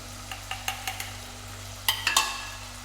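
Whipped salted curd being stirred into a green chilli curry, giving a series of light utensil clinks and taps against the pot over a faint sizzle, with a few louder scrapes near the end and no voices.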